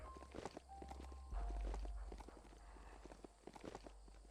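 Hooves of a furry horse mount in the video game Biomutant clip-clop in a quick, uneven patter, fairly close, over a low hum and a few faint tonal game cues.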